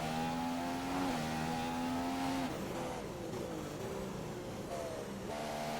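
A race car in a racing video game at the Singapore circuit, its engine droning loudly at high revs, then dropping in pitch as it downshifts into first gear before climbing again.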